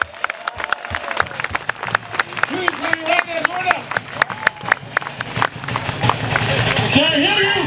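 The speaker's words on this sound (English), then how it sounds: "Clap your hands, everybody clap your hands!" Crowd of spectators clapping along at a Samoan fire show at the Polynesian Cultural Center in Hawaii, rapid uneven claps throughout with a loud announcer's voice talking and calling over them.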